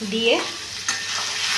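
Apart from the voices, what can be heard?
stirring bottle gourd and prawn curry in a pan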